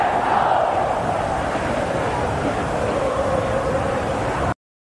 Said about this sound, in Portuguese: Torcida do Flamengo já comemorando a vitória